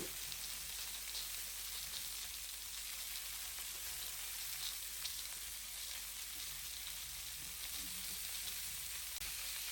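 Chicken wings hiss in a hot pan while being turned, a soft, continuous sizzle that sounds like light rain with faint scrapes underneath.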